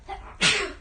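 A single sharp sneeze bursts out after a brief quiet breath, close and fairly loud, then fades.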